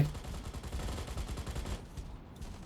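Rapid gunfire from robots in the mobile mech battle game Mech Arena, a continuous rattling stream of shots that thins out near the end.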